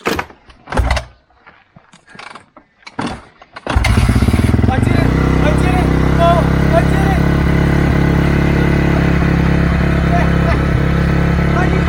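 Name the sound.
Honda CRF dirt bike engine kick-started and revving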